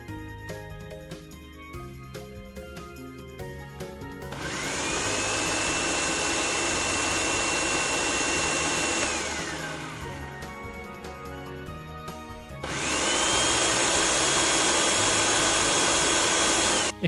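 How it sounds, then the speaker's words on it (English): A blender crushing ice for a smoothie whirs loudly in two long bursts, each with a rising motor whine that holds steady and then winds down, with a lower background hum between them. "I want like a blender making a smoothie, you know? Blending ice."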